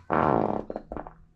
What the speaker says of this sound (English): man, I got the farts.